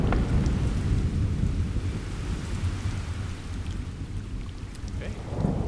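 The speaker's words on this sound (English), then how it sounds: "as it continues to rain and thunder" Steady rain pours down outdoors with a deep, continuous rumble of thunder underneath, a dense wash of noise that holds even throughout.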